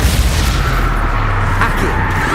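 A Confringo fire spell blast in Hogwarts Legacy, a loud, dense booming burst that fills the whole clip with a roaring explosive wash and no pause.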